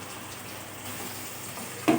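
Chopped onion with ginger paste and garlic fries in an oily pan for chicken kosha, giving a steady soft sizzle and crackle with a brief louder burst of spitting at the end.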